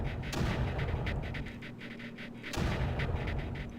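Blaster guns fire in rapid bursts during a Creeper World real-time strategy game, short repeated zaps over a dense, steady background rumble, with a louder surge of shots near the end.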